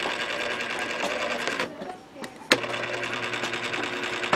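A Whirlpool washing machine stuck after its first cycle drones with a steady mechanical whir and buzzing hum, briefly dipping before a sharp clunk and the noise resuming, with voices talking over it.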